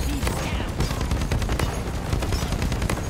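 Rapid automatic weapon fire from the co-op mining shooter Deep Rock Galactic, a dense, continuous burst of shots running the full length, loud and close, with game effects layered underneath.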